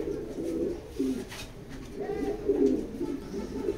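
Pigeons cooing in a pigeon loft, soft rolling coos repeating through the clip over a low murmur of background noise, moderately close.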